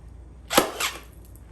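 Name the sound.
staple gun test staple through plastic seat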